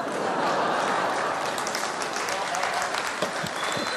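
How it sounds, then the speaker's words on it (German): A comedy audience breaking into applause, scattered clapping from women in the crowd swelling into steady, fairly close clapping that carries on for several seconds with some murmuring underneath. "nach dem ersten Schock fangen doch die ersten Frauen an zu klatschen und zu grinsen"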